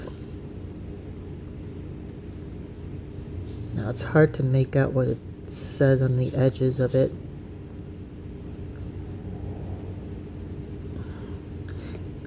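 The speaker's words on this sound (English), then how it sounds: "excuse the noise in the background, that's my washing machine." Washing machine running in a home, a steady low hum and whir filling the background throughout, under a voice speaking close by for a few seconds.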